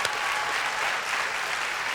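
A studio audience applauds on a music interview show, a brief burst of steady, dense clapping that stays even for about two seconds.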